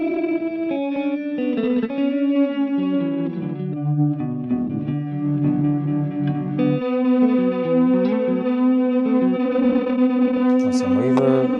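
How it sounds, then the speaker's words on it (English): An electric guitar runs through an Onward pedal on an ambient board, producing warped, glitchy, pitch-shifting effect sounds with distortion and chorus-like shimmer, sustained and loud throughout with a burst of sharper high tones near the end. "have the onward give me some crazy sounds"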